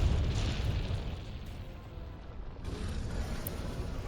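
Cannon fire in Monster Hunter World during the Zorah Magdaros barrel-defense quest: a loud, continuous rumbling roar of booming blasts that swell and settle across the whole stretch, with no voices over it.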